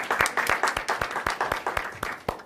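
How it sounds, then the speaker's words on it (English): Steady applause from a small crowd of sixth-form students, with brisk, regular claps sounding fairly close and continuing throughout. "We give all the lovely sixth forms a round of applause"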